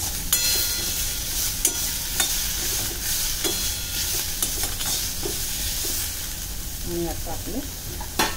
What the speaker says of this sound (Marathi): ओले खोबरे लाल रंग येईपर्यंत छान परतून घ्यायचं